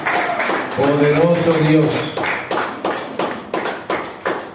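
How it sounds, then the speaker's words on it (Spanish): A church congregation claps in rhythm during a Spanish-language evangelical service, a steady run of hand claps following a preacher's spoken words, fairly loud and close. "denle una ofrenda de palmas al Señor, hermano, con todo su corazón"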